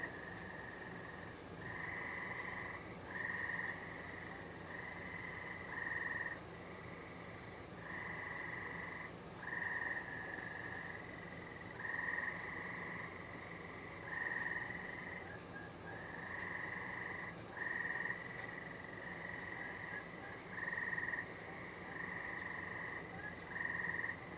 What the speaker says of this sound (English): I don't know why the hell the frogs only yell at night.